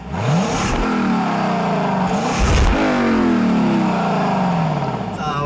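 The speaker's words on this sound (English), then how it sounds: "You cannot beat a gurgle and the grunt of a V8." A naturally aspirated 5-liter V8 in a 2018 Lexus LC500 revs hard, pitch sweeping upward through several rising pulls, with a deep gurgling rumble close by.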